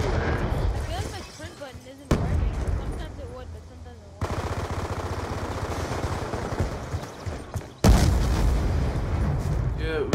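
Gunfire and grenade blasts rattle through a Black Ops 2 capture-the-flag match, with bursts of rapid shots and booming concussion and frag explosions that cut in abruptly, while players talk over the action.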